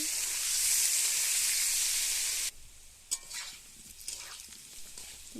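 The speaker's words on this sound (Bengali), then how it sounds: "প্রথমে আমি আলুগুলো নুন হলদি মাখিয়ে ভেজে নিচ্ছি।" Salt- and turmeric-coated potatoes frying in a pan give a loud, steady sizzle that drops away suddenly partway through, leaving softer crackles and stirring clinks.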